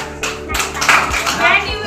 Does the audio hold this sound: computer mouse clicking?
no